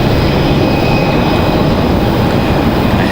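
A Republic Airways jet departs Raleigh-Durham International Airport. Its engines give a loud, steady roar that fills the whole clip without a break.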